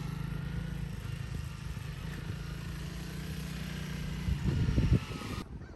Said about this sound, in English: rolling on throttle, make it slow, pulling clutch all the way second gear